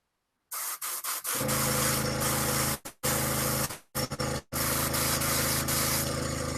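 An aerosol spray can primes a miniature model from above, hissing loudly and close in several long bursts separated by short pauses.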